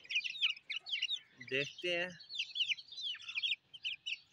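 A hen clucks close by among her chicks, whose high peeping chirps run almost continuously through the clip, with a short stretch of nearby human talk in the middle.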